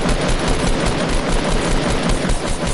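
Dense automatic gunfire spraying in a Fortnite battle royale duos match, loud and continuous bursts with rapid rattling shots and no voices over it.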